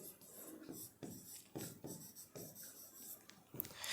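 Pen or marker strokes scratch across a writing surface as examples are written during a chemistry lesson, a close series of short rhythmic scraping strokes with brief pauses between them, quiet and without speech.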